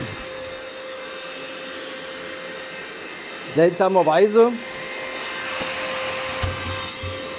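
A Lidl Parkside cordless vacuum cleaner runs with a steady rushing hum of airflow. Someone speaks briefly partway through while the motor noise carries on unchanged.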